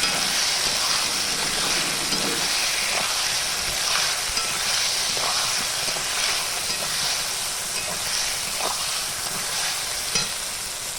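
Ridge gourd and potato fry with garlic paste in a pan, a steady close hiss and sizzle broken by repeated scraping stirs, with no talking.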